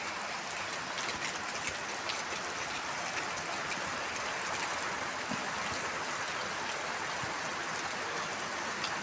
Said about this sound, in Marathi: पावसाची हलकी सर आलेली आहे